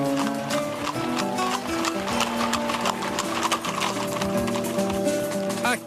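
A troop of horses walking on the Planalto Serrano in Santa Catarina, Brazil, their hooves clip-clopping in a dense, steady patter under loud continuous background music.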